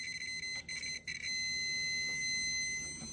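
Fluke multimeter giving its continuity beep as the test probes touch together, a steady high electronic tone with brief broken chirps at first, then holding continuously and close.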